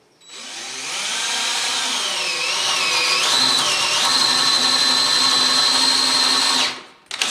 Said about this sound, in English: So I'm gonna drill out here.